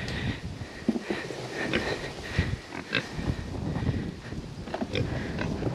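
Homestead pigs grunt and snuffle at close range, a continuous low chorus of short grunts and rooting noises with occasional louder snorts.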